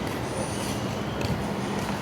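An LRT train passes at Bukit Jalil station on the level below, giving a steady, loud rumble of rail noise with faint wheel squeal throughout and no voices.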